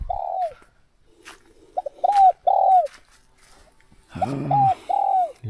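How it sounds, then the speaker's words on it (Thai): A dove known locally as nok khao tu coos nearby in clear, rhythmic phrases of short rising-falling notes, with pauses between, ending in a layered, fuller burst of calls outdoors in the Thai countryside. "นี่ทางบ้านเขาเอิ้นนกเขาตูเลยทางอื่นนี่บ่ฮู้ว่าเขาจะเอิ้นนกหยังแต่ทางบ้านเขานี่เอิ้นนกเขาตู"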